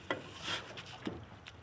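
Tomato being stirred into a thick paste for braised duck, a few soft scraping and squelching strokes of a spoon in the pan over a faint sizzle, fairly quiet and close.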